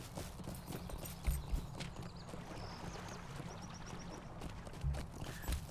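Horse hooves clip-clopping in Lord of the Rings Online, a quiet steady trot of hoof beats with a few louder thuds, plus faint chimes and effects in the background.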